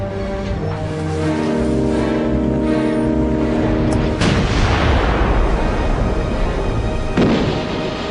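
Naval guns firing at long range during a World War I sea battle, heavy booming blasts over a constant dense rumble, one sharp report standing out midway and another near the end.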